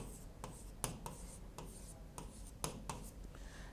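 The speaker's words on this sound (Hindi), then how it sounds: "तो देखो मैंने लिखा, एक संख्या लिख दिया ये।" Pen or chalk writing a number by hand, with soft scratchy strokes and short taps in an irregular rhythm, close and quiet, with no talk.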